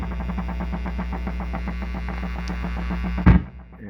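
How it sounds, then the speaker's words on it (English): A late-1970s Fender Pro Reverb amplifier pulses steadily with its vibrato effect, an even throbbing wobble over a constant mains hum, cut off by a sharp thump near the end. "well, there's the vibrato finally"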